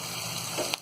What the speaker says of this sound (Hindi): और प्याज को हम ज्यादा नहीं पकाएंगे, इसे हम सिर्फ हल्का सा नरम होने तक तलेंगे।